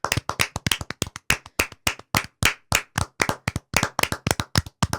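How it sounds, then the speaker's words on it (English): A small group claps for Taylor Swift and Travis Kelce during a podcast, sharp hand claps in a quick, steady burst lasting several seconds, close and alone with no talking. "Round of applause."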